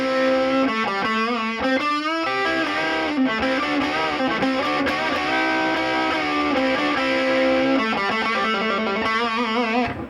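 A Gibson Les Paul plays blues pentatonic licks through heavy distortion, a loud, continuous stream of sustained, bent and released notes with short rhythmic phrases and no talking.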